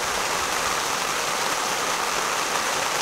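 Heavy rain pours in gusts over the taiga of the Polar Urals, a dense, steady broadband hiss of falling water that fills the whole stretch without a break, loud and close, with no voices.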